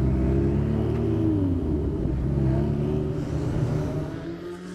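Ferrari Challenge race cars driven flat out at a Formula 1 Canadian Grand Prix weekend, a loud continuous engine roar with rising and falling pitch as cars sweep past close by.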